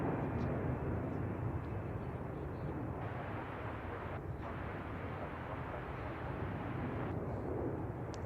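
An airliner departing San Francisco Airport for Tokyo Narita rumbles with a steady, heavy jet roar, broadband and continuous at moderate distance, holding level throughout.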